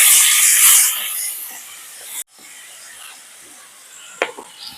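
Chopped onion and tomato dropped into hot tempering oil at a forest campsite, giving a loud broad hiss that fades after two seconds, then a softer steady sizzle with a sharp clink near the end.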